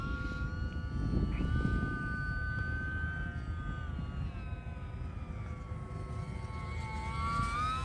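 Small E-flite UMX Pitts S-1S electric RC airplane on a 3S battery at quarter throttle, a thin whining motor tone that rises and falls steadily as it flies, with a noisy low rumble of outdoor background throughout.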